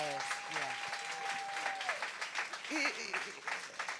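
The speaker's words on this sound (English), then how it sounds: "we have to give him a round of applause" A studio audience gives a faint round of applause for a singer during an interview, a soft patter under and after voices talking.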